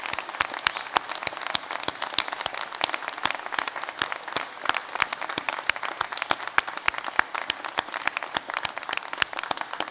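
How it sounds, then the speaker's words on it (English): A graduation audience at a university ceremony in Derry/Londonderry claps in a sustained round of applause, dense and steady for the full stretch with distinct sharp hand claps standing out near the front, no talk over it. "let's just give them a round of applause for all the support that they've given you"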